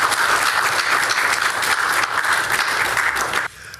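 An audience at a Ghanaian sports foundation event applauding warmly, a dense, loud, sustained wash of clapping that cuts off abruptly near the end.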